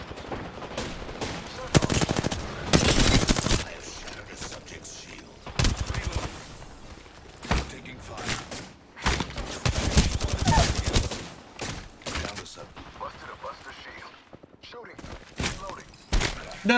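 Apex Legends firefight with repeated bursts of automatic gunfire and single shots, loud and close, spread across the whole stretch with brief pauses and some spoken voices in between.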